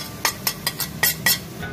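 Spices being stirred into fried ginger and garlic in a pot, a spoon scraping and clinking against the metal in six or seven quick, evenly spaced strokes, close and crisp.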